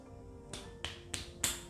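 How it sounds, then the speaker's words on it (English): A child claps his hands four times at uneven intervals, each clap sharp and crisp against a quiet background hum, with no talking. "Clapping to myself."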